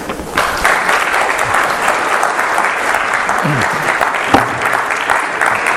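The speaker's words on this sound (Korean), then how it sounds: "교수님 나오실 때에 우리 환영의 박수로 맞이하겠습니다" A church lecture audience gives loud, steady welcoming applause for an arriving professor, a dense continuous wash of many hands clapping close by throughout.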